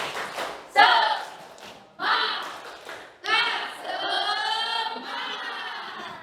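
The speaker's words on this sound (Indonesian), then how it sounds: "Tepuk semangat." Schoolchildren in an Indonesian classroom do the rhythmic 'tepuk semangat' clap, sharp bursts of group claps that open a loud chanted routine of young voices, carried in quick patterned phrases close to the microphone.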